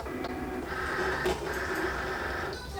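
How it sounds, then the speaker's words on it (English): A Cricut Explore Air cutting machine draws a mat in under its rollers with a whirring, printer-like motor drone broken by a couple of clicks, close and moderately quiet with no talk. "Sometimes when I press this load button, the mat does not actually go under the rollers."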